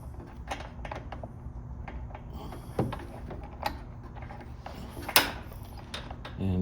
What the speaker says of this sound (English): Now I just need to reach in there and tighten the clamp.